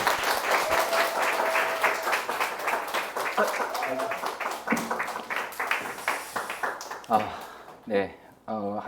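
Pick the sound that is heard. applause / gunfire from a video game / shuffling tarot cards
applause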